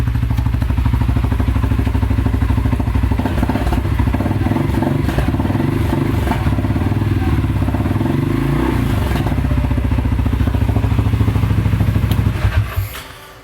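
A 2020 CF Moto CForce 600 Mud Force ATV with an aftermarket exhaust tip runs loud and close, a throaty, rapid pulsing with a few rising revs midway, before the engine winds down and stops at the end.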